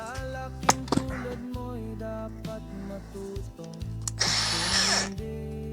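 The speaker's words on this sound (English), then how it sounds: "90-degree drill." A 90-degree angle power drill whirs in short bursts, each starting and stopping abruptly with a steady motor tone and varying pitch, with one higher, harsher burst near the end.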